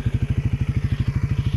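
Suzuki motorcycle engine idling close by, a rapid, even putt-putt pulse repeating about ten times a second, steady and fairly loud.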